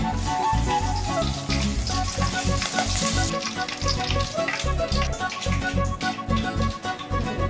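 Chilli-powdered fish frying in hot oil, a loud, busy crackle and sizzle with bursts of spattering and some stirring clatter, continuous from start to finish.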